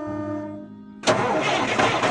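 A cartoon show tractor's engine cranks to life on a Fortnite farm: a sudden loud start about halfway through, settling into a steady, close running roar.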